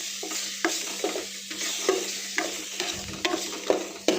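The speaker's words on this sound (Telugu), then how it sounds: "ఇంక ఇప్పుడైతే టమాటా పేస్ట్ కూడా వేసేసుకుంటున్నాం." Tomato paste frying in a pan with ginger and turmeric, giving a steady close sizzle broken by repeated scraping stirs every half second or so, with no one talking.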